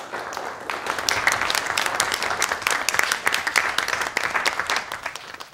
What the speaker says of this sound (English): Go ahead, clap for her, folks.